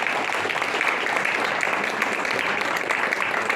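A church congregation applauds steadily, a dense, sustained wash of clapping from many hands in a large room.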